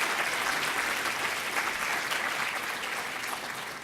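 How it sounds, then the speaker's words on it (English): An audience at a public policy lecture applauds warmly, steady dense clapping that fades slightly toward the end. "and they deserve a round of applause."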